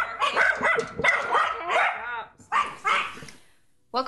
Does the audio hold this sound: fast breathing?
no